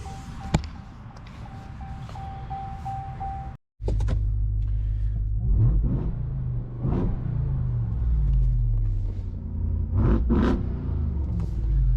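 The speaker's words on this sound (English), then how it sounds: "It's just awesome how this truck sounds." A stock Ram TRX pickup truck starts up, and its engine settles into a deep, loud idle close by with a couple of blips of the throttle. A chime sounds inside the cab before the start.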